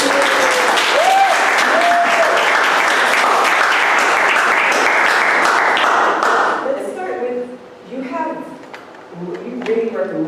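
Crowd applause rises to a dense, steady roar of clapping for about six seconds as an audience welcomes a speaker, then thins out, with a person starting to talk over the fading claps.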